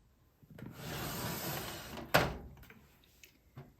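A drawer holding makeup products slides open with a long rubbing scrape, then lands with a sharp wooden knock, followed by quieter rummaging and a light tap, close by with no talking.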